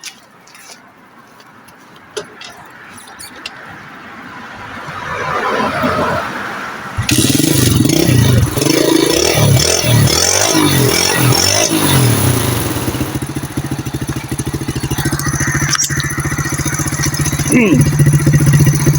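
A GPX Enduro 125cc dirt bike, rewired with a new harness after a faulty starter coil, stays quiet apart from a few clicks and handling noises, then fires up and runs loud and steady at close range. Voices can be heard near the machine.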